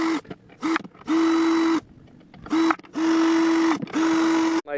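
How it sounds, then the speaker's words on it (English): A handheld drill spins lug nuts off a vehicle wheel during a home tire rotation, giving several close, steady whirring bursts of uneven length separated by short pauses. "So I'm going to get my handheld drill and just take them off real fast."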